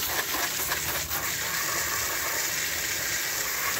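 Water sprays and rinses down an air conditioner coil in a steady, close, continuous gush with a slight sizzling hiss throughout, no voices.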